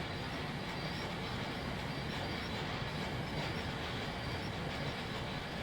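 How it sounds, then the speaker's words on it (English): Train engine rolling into the sheds, a steady, continuous rumble of wheels and rail noise at close range, holding even throughout with no talk. "The new engine overheard this and reversed into the sheds upset."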